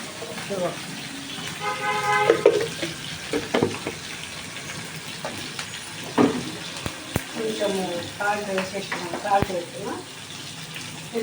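Mustard seeds, one dried red chilli and green chillies sizzling in hot oil, a steady crackling fry with sharp pops, under someone talking throughout.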